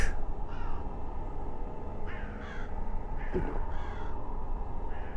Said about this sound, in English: Why are there birds outside?